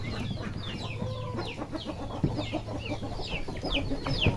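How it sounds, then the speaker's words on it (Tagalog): Small chicks and young fowl cluck and peep in a farmyard, a steady chorus of short chirping calls close by, with a few louder clucks near the end. "yung mga sisiyo pwede na natin pakawalan"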